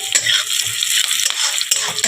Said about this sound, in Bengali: এটা একটু লাল লাল করে বন্ধুরা ভেজে নেবো।